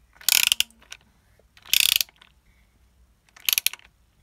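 A ratchet with a 12 mm socket tightening the transmission oil bolt on an MBK Ovetto 50 4T scooter: three separate bursts of rapid, close clicking, each about half a second long, with quiet gaps between them.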